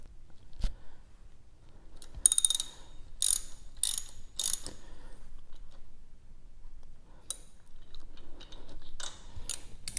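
A ratchet tightening a motorcycle spark plug, giving several short bursts of rapid clicking pawl ticks separated by pauses, close up and fairly crisp in a quiet space.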